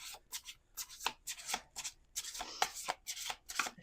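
Quick papery riffling bursts of cards being shuffled, repeated in a steady rhythm, close and fairly quiet.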